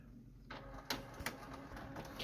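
A Canon MG5220 inkjet printer feeds and prints a page, with whirring motor noise, a rising start and a few sharp mechanical clicks and clunks over a continuous hum.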